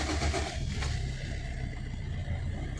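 A Maruti Swift diesel car engine cranks and catches, then settles into a steady, close, low diesel rumble with no talking.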